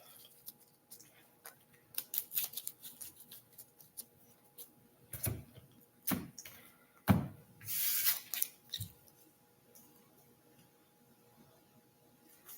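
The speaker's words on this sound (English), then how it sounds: "Then we're going to shuffle." A Pokemon trading card deck is shuffled by hand in quiet, close bursts of crisp snapping and riffling clicks, with pauses between them and no talk.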